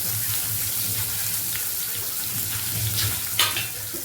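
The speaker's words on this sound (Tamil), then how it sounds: "பொரியிற சவுண்டு கேட்குதா உங்களுக்கு? அடுத்தது வெங்காயம், பச்சை மிளகாய், கருவேப்பிலை எல்லாத்தையும் போட்டுருவோம்." Onions, green chilies and curry leaves fry in hot oil with a steady, close crackling sizzle and occasional stirring, plus one short sharper burst near the end; no one talks.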